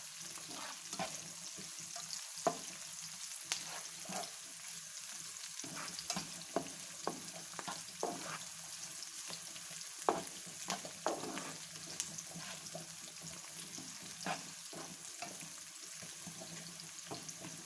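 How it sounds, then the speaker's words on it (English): Onions and garlic sizzle steadily in a hot frying pan as they brown, a continuous close crackle broken by occasional louder pops and stirring scrapes, with no talking. "We will fry it a little bit more brown."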